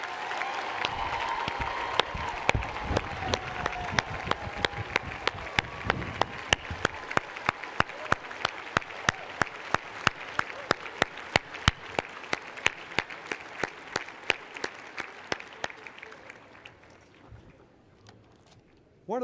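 Graduates' parents receive sustained applause at a law school commencement, dense crowd clapping that settles into a slower, rhythmic unison beat before fading near the end.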